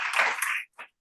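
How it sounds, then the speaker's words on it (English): A burst of audience applause at a teachers' gathering, dense clapping for about half a second that cuts off, followed by a brief second smattering of claps. "a huge round of applause for each one of you"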